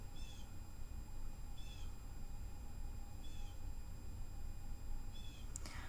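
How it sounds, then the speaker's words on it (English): A bird calls outdoors: four short, high chirps spaced roughly a second and a half apart, faint above a steady low rumble of background noise. "did you just hear that bird?"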